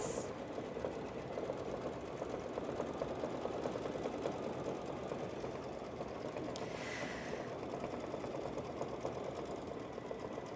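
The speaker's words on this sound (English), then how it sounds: "Now we are almost done with the satin stitching for our stocking" A sewing machine satin stitching a fabric stocking, running in a continuous fast rhythmic whir at moderate, close level, with a brief clink partway through.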